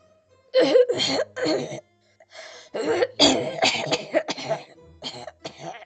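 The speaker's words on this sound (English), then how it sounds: "How long have you had that cough?" A person coughs repeatedly in harsh, close bursts, with short pauses between fits and a brief throat-clearing quality, no other sounds around.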